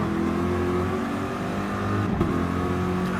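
Race car engines in a sim-racing GR3 series round at Monza, cars howling at high revs down the start-finish straight, a steady loud drone with a brief passing surge near the end and no talk.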